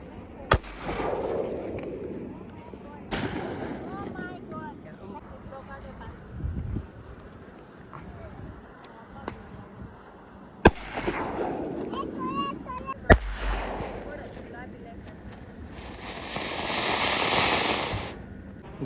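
Diwali firecrackers and rockets set off at the seaside: several sharp, loud bangs at irregular intervals, each followed by crackling and hiss, with a rising fizzing burst near the end and voices in the background.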